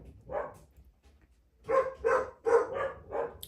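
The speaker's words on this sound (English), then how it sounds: "Dogs." A dog barks once, then after a pause lets out a quick run of five loud, close barks.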